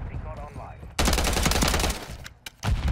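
Rapid automatic gunfire in the video game Call of Duty MW3 erupts as a loud, close burst lasting about a second and a half, followed by a couple of sharp single shots.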